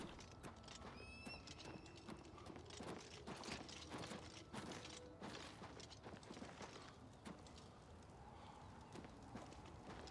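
Horses whinny and neigh repeatedly over a busy clatter of hooves in The Elder Scrolls IV: Oblivion Remastered, with scattered thumps and game effects in the background.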